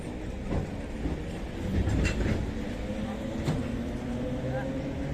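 A local train in motion on a 3.5-hour ride toward Undol, with a steady rumbling rail-car drone, faint wheel clatter and occasional swells, heard from inside the carriage with some background voices.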